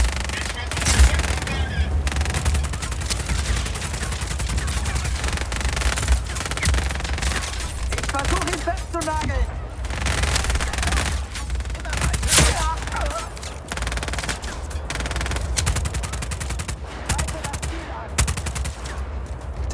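Rapid gunfire in the video game Just Cause 4 crackles in dense, repeated bursts for the whole stretch, with a steady low rumble and brief voices now and then.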